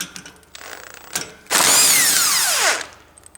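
A socket ratchet clicks on a snow blower carburetor drain bolt, a few short turns followed by one loud, sustained whirring burst of clicking about a second long, close by.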